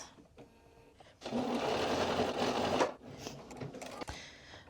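A sewing machine runs in one steady close burst, stitching the closing seam of a pants waistband at a half-inch allowance, then stops, followed by light handling noises of fabric.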